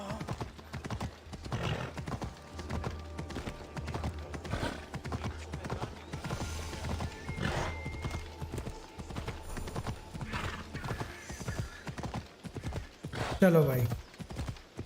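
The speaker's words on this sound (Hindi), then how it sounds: "चलो एक मिनट, मेरा घोड़े को बुला लेते हैं।" Horse hooves clip-clop steadily through a game of Assassin's Creed Odyssey, ending in a loud neigh near the close, with someone speaking briefly over them.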